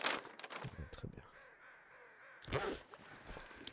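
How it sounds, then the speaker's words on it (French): Crows caw in The Long Dark survival video game, a series of harsh rasping calls at moderate distance with scattered clicks and footstep-like noises around them, no voices over them. "J'entends des corbeaux"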